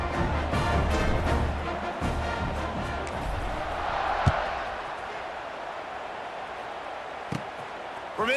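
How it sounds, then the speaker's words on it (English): Stadium crowd at a North Carolina vs Florida football game roaring steadily just before kickoff, a broad sustained wash of cheering with a commentator talking over it. "They're set to kick it off, and this crowd now ready to get behind them."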